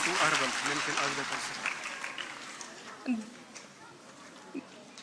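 Crowd applause at a state-level competition event, loud at the start and fading away, mixed with a few shouts and background voices.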